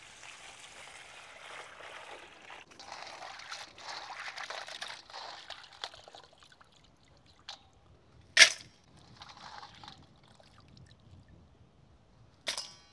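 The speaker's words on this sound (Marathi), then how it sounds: "आपण आता नांगे स्वच्छ पाण्याने धुवून घेऊ।" Crabs are rinsed in clean water for a village-style Jharkhand crab curry: a soft, steady trickle and splash of water runs for several seconds, broken by a few sharp clicks and knocks, faint and close, with no talk.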